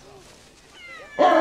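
Soft, high squeaky lemur calls rise and fall, then a louder, kitten-like mewing cry at the end, close by.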